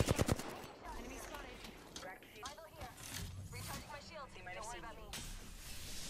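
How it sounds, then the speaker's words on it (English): Video game gunfire from a ranked solo match, with sharp close shots at the very start and then scattered bursts and clatter beneath continuous talking. "Where are you shooting?"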